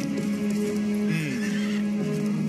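A horse whinnies in the video game Dark Messiah, a clear, fairly close neigh with wavering pitch, followed by a second shorter whinny, with faint hoof clip-clop and ambient background.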